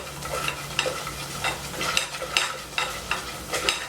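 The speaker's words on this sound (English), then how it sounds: "we don't want our butter to burn too much, so just gonna go ahead and get this stirred up here" Butter and flour paste is stirred in a hot pan, with a spoon scraping in a steady rhythm of about two strokes per second over a constant soft sizzle, close up and without voices.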